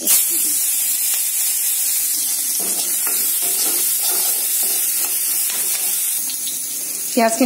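Sliced onions and a whole split green chili sizzle in a smoking hot pan, a constant bright frying hiss punctuated by soft scrapes and clinks of stirring.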